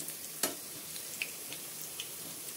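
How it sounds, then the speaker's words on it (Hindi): Raw potato snack pieces fry in a pan over a medium flame with a steady, close sizzle and a few faint clicks and pops. "इनको मीडियम फ्लेम पे ही सेकना है तभी हमारा जो ये नाश्ता है आलू का क्रिस्पी हो सकता है।"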